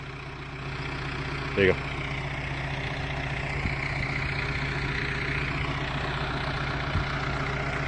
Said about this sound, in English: Tractor. I love these things.